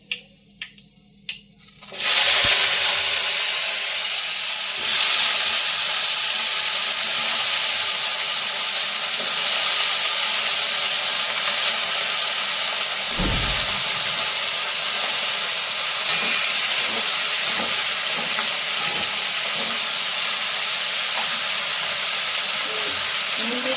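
Panch phoron spices, then eggplant and potato, hit hot oil in a pan. After a quiet start, a sudden loud sizzle bursts out and holds as a steady, close, hissing crackle throughout.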